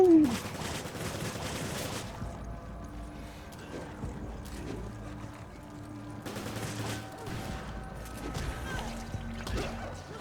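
SMG fire in the video game Resident Evil 5, with sustained rattling bursts and crashing impacts over a busy game soundscape, moderately loud with a few pauses between volleys.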